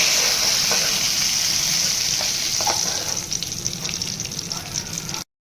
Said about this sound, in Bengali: বেগুনগুলো ভালোভাবে ভাজা হয়ে গেছে